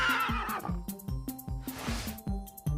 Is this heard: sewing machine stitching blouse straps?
no